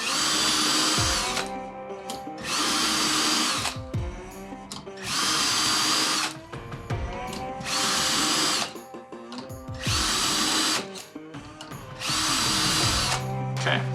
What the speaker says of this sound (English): as you press down, it's going to drill that hole right in the center, keep your hinge lined up